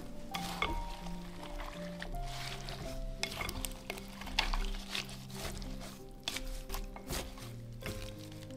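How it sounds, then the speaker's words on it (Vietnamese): Shrimp are stirred into a sweet potato batter for fried shrimp cakes, giving soft wet scraping and sloshing with light clinks, close and steady, with no talking. "Bây giờ mình cho tôm vô luôn và mình cũng trộn đều lại."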